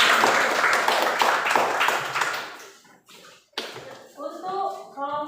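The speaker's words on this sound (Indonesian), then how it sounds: "Silakan tepuk tangan." A classroom of students claps for a group presentation in a lively burst that fades out around the middle, after which a voice speaks.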